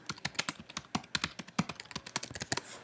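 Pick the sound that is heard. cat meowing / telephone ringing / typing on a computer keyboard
typing on a computer keyboard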